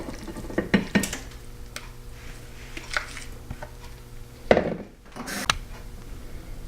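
Crumbled tofu going into a bowl in a home kitchen, heard as soft scraping and clinking of utensil against dish, a few light knocks and rustles, close and fairly quiet, with no voices.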